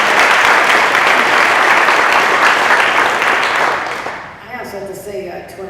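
An audience applauds at a downtown revitalization press conference with the New York governor. The clapping is steady and loud for about four seconds, then thins out and fades.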